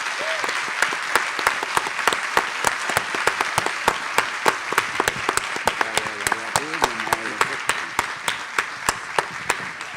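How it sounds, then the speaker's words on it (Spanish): An audience applauds at the close of a public talk on populism in Valparaíso, dense sustained clapping from a crowd with sharp individual claps standing out, with a few voices mixed in. "terminamos con un aplauso a Alberto Barrera Tizar."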